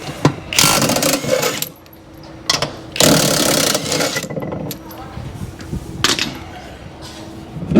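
Clanks, metallic rattles and scraping come from work on a Toyota Prado wheel as it is removed, heard in irregular loud bursts with quieter gaps between them and no speech over them.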